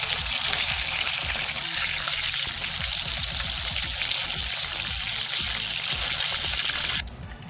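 Fish frying in oil in a pan at home gives a loud, steady, dense sizzle with crackling pops that runs almost the whole time and then drops off abruptly near the end.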